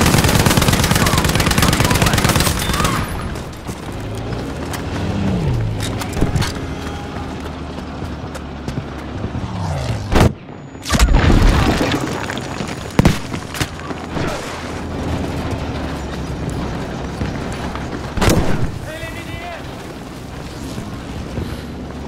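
An artillery barrage in Battlefield V: heavy, roaring blasts and rumbling impacts amid constant wind and gunfire, with a few especially loud, close explosions standing out from the dense, continuous din.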